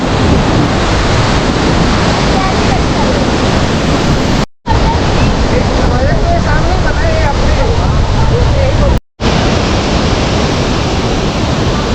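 A powerful waterfall and swollen river roar at Sela Pass in Arunachal Pradesh, a loud, dense, unbroken rush close to the microphone with wind buffeting, cut by two brief dropouts.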